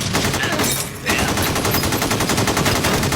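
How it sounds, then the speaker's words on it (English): Sustained, loud automatic fire from AK-47 assault rifles in an action movie bank-robbery shootout, a dense, continuous rattle of rapid shots with only a brief pause near the start. "They're shooting hundreds of rounds."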